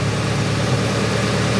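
Grinnall Scorpion car engine idling at tick over, a steady low rumble held close and even with no revving.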